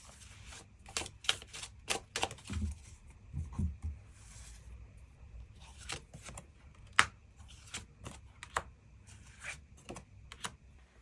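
Tarot cards being shuffled and drawn, with a quick run of crisp riffling flicks and soft slides, followed by scattered sharp snaps and taps of cards laid down, close and fairly quiet, with no talk.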